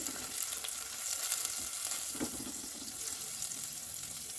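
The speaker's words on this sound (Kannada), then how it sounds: "ಇಷ್ಟು ನೋಡ್ಬೋದು ನೀವು, ಫ್ರೈ ಆಗ್ತಾ ಇದೆ ನೀಟಾಗಿ." A pan of mixed ingredients for a mackerel fish curry fries with a steady, close, watery sizzle throughout, lightly textured by occasional stirring.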